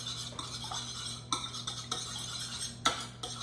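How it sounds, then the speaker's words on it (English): Egg and milk whisked together in a bowl for a pie crust wash, a steady rhythmic clink and scrape of utensil against dish with sharper taps every second or so over a low hum. "now I'm gonna combine my egg with my milk"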